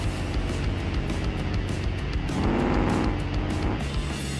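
Supercharged, nitrous-fed 423 cubic inch V8 in a Gavril Barstow quarter-mile drag car in BeamNG, a loud continuous engine roar that rises and swells midway with tire noise, steady and close throughout.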